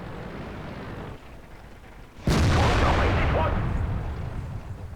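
A single loud, close tank gun shot in World of Tanks bursts out after a quieter lead-in and rumbles away over the next few seconds. Game noise runs underneath.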